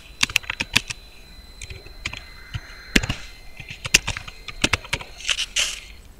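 Keys on a computer keyboard tapped to enter an email address, a quick irregular string of sharp, close clicks with short pauses between bursts, alone without talk.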